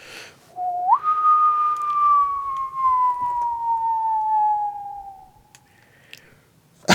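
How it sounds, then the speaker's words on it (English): A single clear, sustained ocarina note slides up, then holds and slowly drifts down in pitch over several seconds, loud against quiet background. "It really is more of a whistle than a horn. Yeah, it really is. It's like a flute note."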